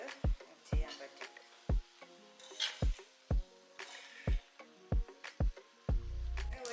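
Leafy thoran ingredients tossed with a fork in a bowl, giving a run of sharp, evenly spaced metallic clicks and scrapes at close range, with no talk over it.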